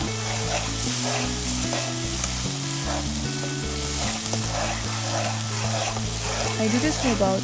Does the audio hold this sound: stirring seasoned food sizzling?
yes